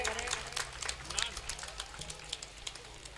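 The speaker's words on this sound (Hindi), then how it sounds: "तालियों से इस्तकबाल करें।" Audience applause welcoming the session president at an all-India mushaira poetry gathering in Fatehpur Sikri, a dense patter of clapping from a crowd that fills the short stretch at steady loudness.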